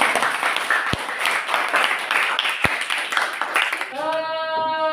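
A classroom group applauds in a burst of mixed clapping over a few seconds, with a couple of sharp knocks, before a tonal sound takes over near the end.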